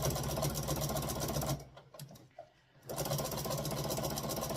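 A sewing machine quilting through a layered quilt sandwich runs loud and close, pauses briefly for about a second while the fabric is smoothed, then continues its steady whirring stitch.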